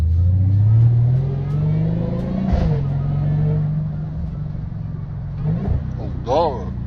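Dodge Hellcat engine revving with a rising, falling mid-pitched whine, loud and close, a sustained rumble under it, with a voice talking briefly near the end.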